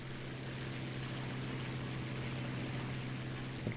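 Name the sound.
Fiat CR 32 aircraft engine at emergency power, video game War Thunder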